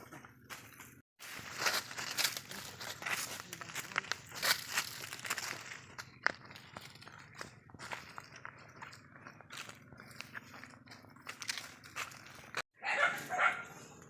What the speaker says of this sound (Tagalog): Kasama namin si Buboy, hinahabol ng aso